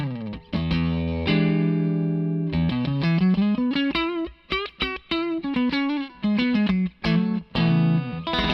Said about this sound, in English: Clean tone, Music Man into the Victory, with a little bit of reverb from the Victory.